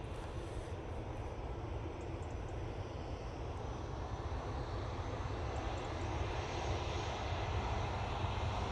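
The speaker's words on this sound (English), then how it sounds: "the A380 has come in already" Airbus A380 airliner engines at Manchester Airport, heard as a loud, continuous, broad jet roar that holds steady throughout with no voices.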